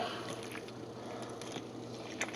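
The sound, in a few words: crushing destemmed grapes by hand for winemaking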